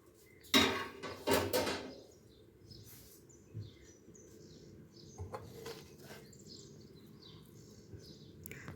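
Shavige (vermicelli) being gently mixed in a pan with a utensil: a few distinct metallic clinks and scrapes at the start, then softer, sparse stirring sounds in a quiet kitchen.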